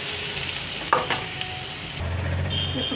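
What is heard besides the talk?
hot oil sizzling in a pan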